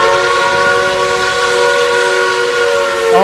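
A Baltimore and Ohio steam whistle in the RO-Scale Sandbox game sounds one long, loud, steady chord-like blast that holds for the whole stretch.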